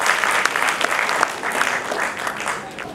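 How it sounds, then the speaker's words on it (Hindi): An audience applauding at a tribute event for Hanif Raja at the Arts Council of Pakistan: dense, sustained clapping that stays loud throughout. "तालियां भरपूर होनी चाहिए"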